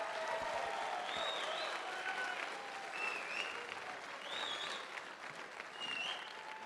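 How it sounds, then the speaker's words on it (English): An audience at a college scholarship signing day applauding, a sustained, fairly distant round of clapping with a few whistles cutting through. "give her a huge round of applause?"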